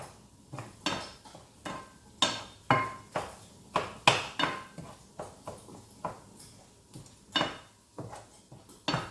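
Mushroom sauce is stirred in a pan, giving a quick series of distinct scraping and clinking strokes of a utensil against the pan over a faint sizzle, close and fairly quiet.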